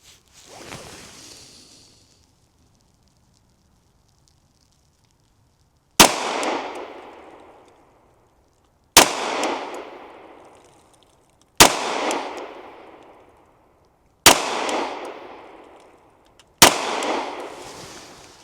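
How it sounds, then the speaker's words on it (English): A Canik Mete SFT pistol fires 147 grain HST rounds at an indoor range. Five sharp, loud shots ring out alone, evenly spaced a few seconds apart after a short quiet start, and each one decays quickly. "We have 147 grain law enforcement premium HST. How do I shoot that?"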